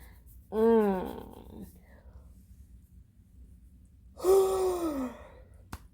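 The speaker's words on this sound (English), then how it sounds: "I keep yawning." A person yawns twice, each a drawn-out breathy, rising-then-falling vocal sound, the first short and the second longer, close and soft against a quiet room.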